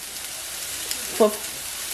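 Salisbury steak patties frying in a pan, a steady, moderate sizzle throughout, briefly broken by a short tonal voice-like sound near the middle.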